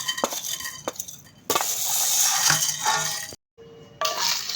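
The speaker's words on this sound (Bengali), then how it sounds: "এখন সবগুলো উপকরণ ভেজে নেব আমি একসাথে" Whole spices dry-fried together in a wok on a stove, with a close, continuous rattle and scrape of stirring, short clinks, and a brief cut to near silence near the end.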